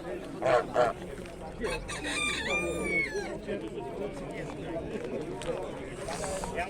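A rooster crows among clucking chickens at an outdoor poultry market in Michów, with geese and other fowl nearby; the crow stands out briefly over a busy background of birds and voices.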